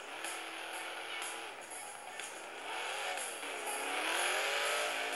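In the racing video game Turbo Desmonte, a car engine whines and revs steadily, pitch sweeping up and down through gear changes and growing louder toward the end, with a voice talking over it.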